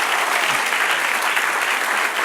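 Church congregation applauding together in a sustained, dense burst of clapping that fills the space steadily from start to finish, loud and even with no pauses.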